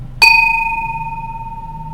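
A single bright strike of a bell rings out, its clear metallic tone sustaining and slowly decaying over a low background hum, with no voices.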